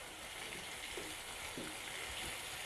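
Fish sizzling and crackling in hot oil, a steady, close, broadband hiss with faint pops and stirring now and then, no voices.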